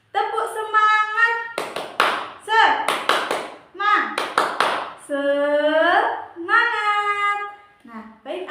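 An elementary class chants a rhythmic spirit-clap routine, with sung voices alternating with sharp bursts of synchronized handclaps in a bouncy, repeating pattern, loud and close.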